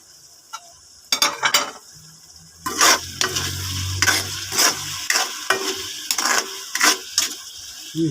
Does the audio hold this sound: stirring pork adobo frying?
yes